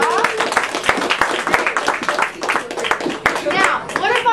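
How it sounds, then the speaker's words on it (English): A small group gives uneven, scattered claps for a winning girl, with children's and adults' voices talking over the clapping. "Let's give her a round of applause"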